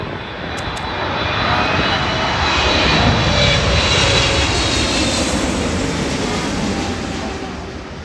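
Loud, roaring propeller aircraft engines drone steadily overhead at the Toronto Air Show, swelling and fading slightly as planes pass close by.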